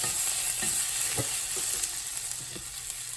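Onions fry in a pan with a constant close sizzle while a utensil stirs and scrapes through them in several distinct knocks and scuffs, with no voice over the cooking.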